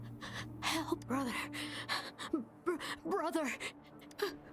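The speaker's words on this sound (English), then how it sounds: "that gasp for breath is not a chirp" A Tacit Discord creature in the video game Wuthering Waves gasps for breath again and again, a string of strained, whimpering gasps and pants at moderate level over several seconds.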